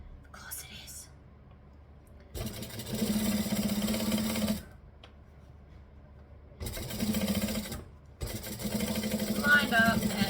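A sewing machine stitches in three loud whirring bursts separated by short pauses while a quilter backstitches, and a quiet whispering voice comes through between runs.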